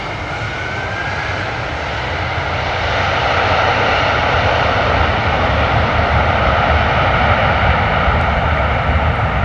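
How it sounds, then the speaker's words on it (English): A United Boeing 767 on a hard landing, its reverse thrust roaring loud and close as a steady broadband engine rush that swells after the first few seconds and holds strong to the end. "Nice and loud there on the reverse thrust, nice and loud"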